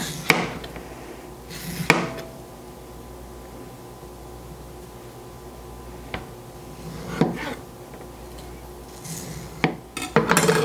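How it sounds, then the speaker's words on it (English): A knife cuts a mango along its inner pit, giving sparse sharp taps and clacks of the blade against a hard surface at irregular intervals over a quiet background. "Just keep going with your knife until you start to find the outline of that inner pit."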